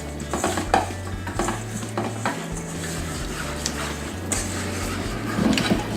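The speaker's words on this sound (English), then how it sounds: "And now we're just gonna stir it all around." Greek-style potato wedges and their ingredients stirred around in a pan, with steady scraping and clinking of the utensil against the pan under a light sizzle, close by and continuous.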